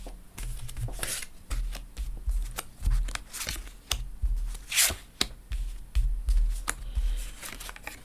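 Tarot cards being shuffled by hand for a reading, close and fairly loud, with repeated quick riffles, slaps and soft thumps in an uneven rhythm and no talking.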